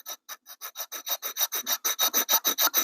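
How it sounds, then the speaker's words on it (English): Steel knife blade held at a right angle scraping a piece of wood into fine tinder dust, a steady run of about twenty quick rasping strokes that grow louder and closer, with no voices. "if I just scrape this wood here, I get really fine"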